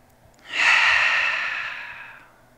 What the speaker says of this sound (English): you might join me for one collective breath as we start by exhaling our air out. And we'll breathe in together.